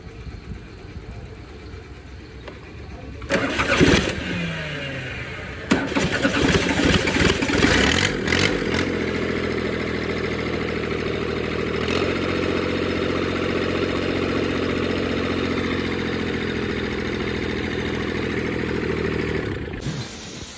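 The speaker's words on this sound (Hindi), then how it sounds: "ट्रैक्टर करते हैं स्टार्ट" A tractor engine cranks and catches with a few rough bursts, then revs briefly before settling into a steady, loud diesel idle that runs on close by until it cuts off near the end.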